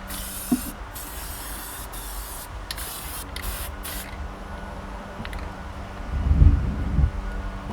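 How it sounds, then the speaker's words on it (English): Close aerosol adhesive spraying inside a motorcycle saddlebag hisses in several bursts for about four seconds, then stops, followed by rustling and handling noise. "Just finish spraying the inside of the bag."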